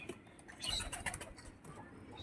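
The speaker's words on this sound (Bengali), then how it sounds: "এটা নর পায়রা।" Male pigeon cooing among a flock of birds at a pigeon sale, soft repeated coos and chirps at moderate distance over a steady background hum.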